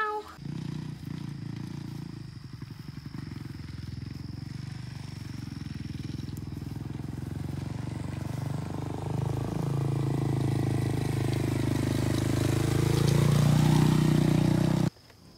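Motocross motorcycle engine at a Millville pro motocross championship track, revving and droning steadily for about fifteen seconds, rising in pitch and loudness toward the end before cutting off abruptly.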